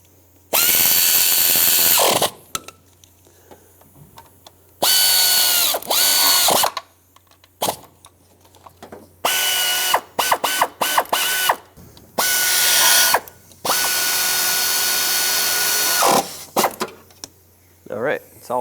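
A hand ratchet snugs down the bolts beneath the camshaft of a 1997-2001 Lexus ES 300 during a timing belt job, with several bursts of rapid clicking close by, separated by pauses.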